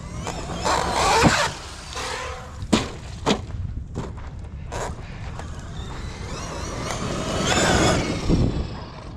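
A Traxxas XMaxx RC truck with an unsupported motor mount, its drive slipping in loud close bursts of whirring, grinding motor noise broken by sharp creaks and clicks, with no talking.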